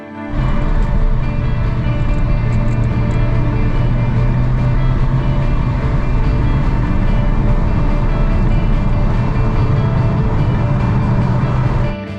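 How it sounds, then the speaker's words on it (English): A Porsche Panamera V8 with a manual gearbox drones loudly and steadily on an Alpine mountain pass in South Tyrol, Italy, a continuous deep engine roar with little change throughout. "So now Italy, 8-cylinder sound."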